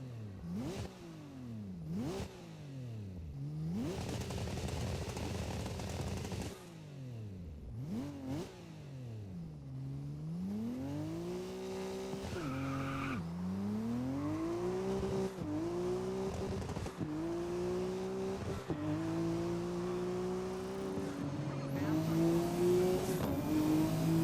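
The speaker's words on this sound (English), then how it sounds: "I love the car sounds in this game" Race car engines in GRID 2019, including a single-turbo RB and a rotary RX-7, revving hard with rising and falling pitch sweeps, gear changes and occasional tire squeal, loud and close throughout.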